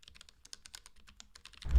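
Rapid, uneven keystrokes on a Keychron K1 mechanical keyboard, a close run of light clicky taps with short pauses, ending in a louder low thump; no talking.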